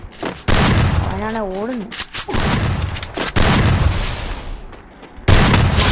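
Rapid bursts of gunfire in the Free Fire battle royale game crack out in heavy volleys, mixed with booms and hits, as a player talks over the action.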